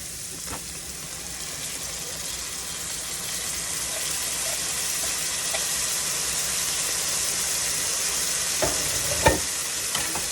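Onions sizzle steadily in a pot, stirred so the bits come up off the bottom, with a broad constant hiss and a few sharper scraping knocks near the end; no talking.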